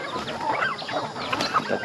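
Geese moving closer on a farm, giving a series of short honking and clucking calls over a few seconds, moderately near with other poultry sounds mixed in.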